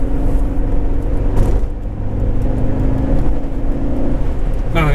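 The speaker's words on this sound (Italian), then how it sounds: "Bialbero, Lampredi, motore italianissimo. E si sente." Fiat Coupé 2000 turbo with a Lampredi twin-cam four running, a loud, steady low engine rumble held throughout with a brief surge and mechanical whir, no talk over it.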